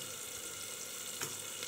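Refined oil heating in a pan before dry red chillies and cinnamon go in for jeera rice, a faint, steady hiss that runs evenly throughout with one small bump near the end.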